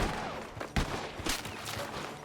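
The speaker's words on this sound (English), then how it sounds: "Oh, gunshot!" Gunshots in the video game Red Dead Redemption 2, several loud booming reports in quick succession over dense in-game noise, with no talk.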